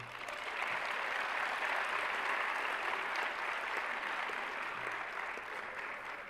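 Sustained, even applause from the audience at a plenary session on women in STEM in Africa, a dense steady wash of clapping that fills the whole stretch at moderate level with no talk over it.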